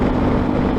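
A Yamaha Ténéré 250 motorcycle fitted with an aftermarket Roncar exhaust tip drones steadily on a highway, its low exhaust rumble mixed with wind noise in a brief, continuous burst.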